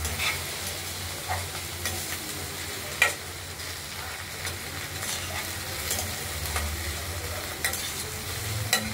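Ash gourd curry with black cumin, chilli and garlic is stirred in a wok, a steady sizzle running throughout with scattered spoon scrapes and taps, close and moderately loud.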